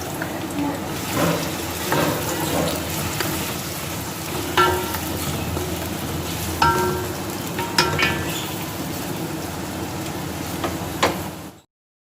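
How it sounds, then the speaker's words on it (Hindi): Onions frying in hot oil for a kaleji masala, a steady sizzling hiss with occasional stirring clinks and scrapes, fading out at the end. "तेल गर्म हो चुका है। इसमें हम सबसे पहले प्याज डाल देंगे"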